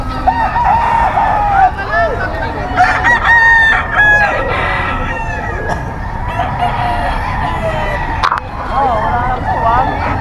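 Pigom gamefowl rooster at a gamefarm in Bocaue crowing loudly and close, several drawn-out crows over clucking and other birds, with a voice talking among them.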